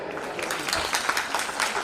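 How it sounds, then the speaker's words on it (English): An audience applauds a guest at a 29th Foundation Day event, with steady, dense clapping from a crowd, fairly close and continuous, and no talking. "Welcome you, sir, with a huge round of applause."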